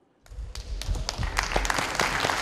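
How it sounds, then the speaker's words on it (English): An audience breaks into sustained applause to welcome children from a vegetarian school, the clapping starting from silence with sharp individual claps and building into a steady, dense round of many hands. "let's all welcome the children from the vegetarian school with a warm round of applause"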